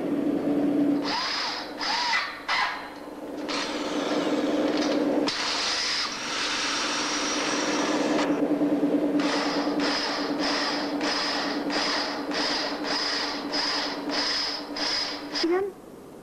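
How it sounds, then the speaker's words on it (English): A power drill whines steadily through wood, drilling bolt holes, then runs in a series of short, regular bursts with brief pauses, loud and close. "We'll now move to the top and drill the hole through."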